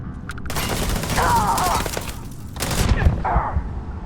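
Gunfire in the sci-fi game Starfield, several bursts of shots in a firefight with loud broadband cracks and rumble, returning in waves, with occasional voices mixed in.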